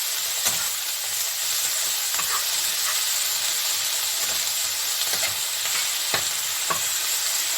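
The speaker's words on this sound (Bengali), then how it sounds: "আমি পালং শাকটা হালকা একটু ভেজে নেব।" Spinach and green chillies frying in oil in a pan while cooking a hilsa fish dish: a continuous bright sizzle with occasional sharp clicks and stirring taps.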